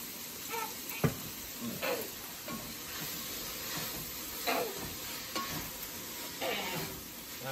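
Potatoes and vegetables for a steak hash fry in a pan with a steady sizzle and hiss, while occasional stirring scrapes rise over it at irregular intervals.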